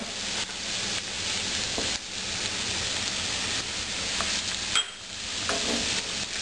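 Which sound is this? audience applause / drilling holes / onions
onions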